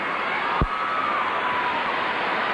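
A crowd cheers at a figure skating gala in Tokyo, a broad, steady wash of arena applause and shouting that holds throughout at a distance, with one brief sharp thump early on.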